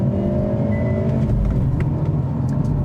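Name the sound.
2025 Volkswagen GTI manual accelerating hard with launch control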